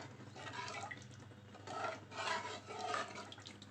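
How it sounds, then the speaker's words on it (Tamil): Water poured into a homemade keema mixture in a home kitchen, a soft liquid splashing and trickling sound that swells in a few bursts, near and quiet. "இன்னும் கொஞ்சம் தண்ணி சேர்த்துட்டேன்"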